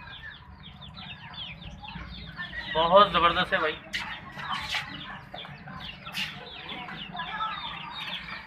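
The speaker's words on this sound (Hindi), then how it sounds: "ये बर्मन मुर्गी के बच्चे हैं" Burmese chicken chicks cluck and peep in a short busy burst near the middle, with someone talking over them and other birds around.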